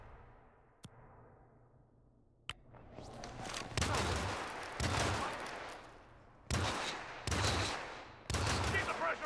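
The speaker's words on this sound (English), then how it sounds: "Whoa, that was a gunshot." Gunfire in the video game Hitman: a couple of sharp isolated shots, then heavy bursts of automatic fire in repeated loud volleys.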